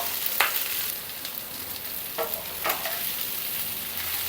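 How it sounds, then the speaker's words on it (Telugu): Cooked rice being stirred into a hot tempering with turmeric in a pan while making pulihora: steady low sizzling with a few brief scraping strokes of the spoon, close up and with no voices. "ఈ పోపు అంతా అన్నంకి పట్టే విధంగా మంచిగా కలుపుకోవాలి"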